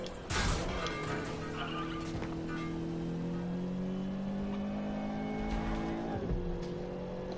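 A car is driven in the video game Watch Dogs Legion, its engine droning steadily with gradually rising pitch and shifting gears, loud and continuous, with a brief skid-like burst at the start and no talking.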